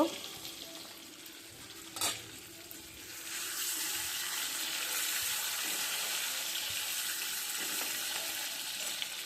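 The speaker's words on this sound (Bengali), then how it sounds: "ভালো করে লাল লাল করে ভেজে নেব" Taki fish frying in a pan until reddish-brown makes a faint hiss that swells into a steady, fuller sizzle after a single clack, quiet and continuous with no talking.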